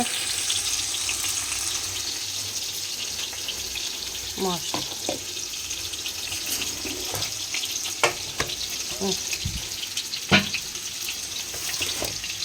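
Fish frying in mustard oil, a steady sizzle with scattered pops and clinks of utensils, moderately close, with faint talk in the background.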